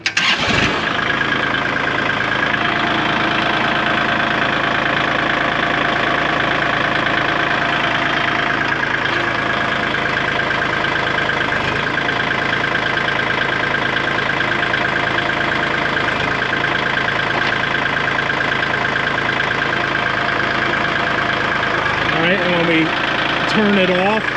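A Kubota L2502 tractor engine runs steadily at idle throughout, a loud, close, continuous diesel drone with a faint hydraulic whine near the end.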